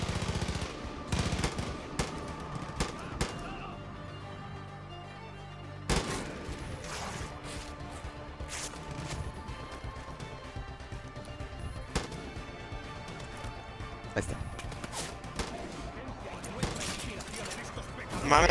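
Gunfire from Far Cry 5 gameplay, with bursts of shots and loud impacts cracking through a dense, busy game mix under a voice and background music.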